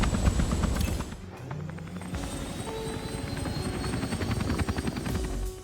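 Helicopter in the Hitman Freelancer game, a steady rotor thrum and whine running throughout with game sounds layered over it.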